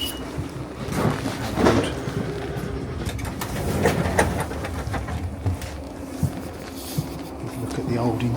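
Inside a Class 458 electric train on a Hampton Court service near Vauxhall, a constant rumble of wheels and motors is broken by occasional rail clicks and knocks, with faint voices in the carriage.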